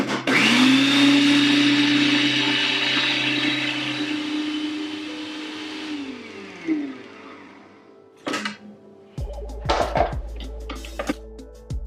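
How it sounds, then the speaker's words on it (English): A food processor chopping pineapple mango salsa ingredients whirs loudly at full speed for about six seconds, its motor winding down, followed by a few short clunks and rattles of the bowl and lid. "So we're gonna put those in the food processor."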